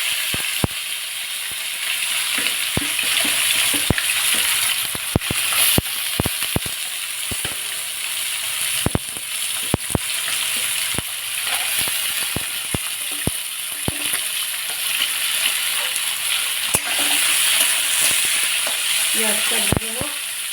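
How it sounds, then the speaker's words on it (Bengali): Chopped onions fry in hot oil tempered with cumin seeds, a loud, close, continuous sizzle broken by frequent sharp clicks and scrapes of stirring. "পেঁয়াজটা ভাজা হোক"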